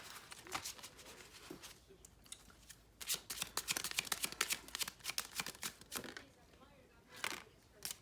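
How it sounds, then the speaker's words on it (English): A deck of oracle cards shuffled by hand, with quick riffling bursts and rapid papery flutters in clusters, close and fairly soft, with no talk. "I'm gonna pull 2 oracle cards as a starter for the reading"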